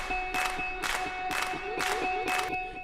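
Rhythmic hand claps land on a steady beat within an electronic dance track, five sharp bright hits roughly every half second over sustained synth tones.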